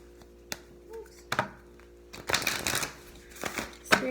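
A tarot card deck shuffled slowly by hand, scattered riffling and card-slapping sounds building into a denser flurry, close up with no speech.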